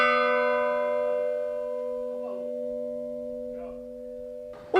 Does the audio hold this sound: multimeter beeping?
no